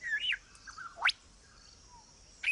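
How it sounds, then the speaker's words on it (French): A lyrebird sings alone in a quiet forest, giving a few clear, loud whistled notes with sharp rising sweeps and slides between them, then pausing before another bright call. "L'oiseau lyre possède le don étonnant de reproduire avec précision les sons qui l'entourent."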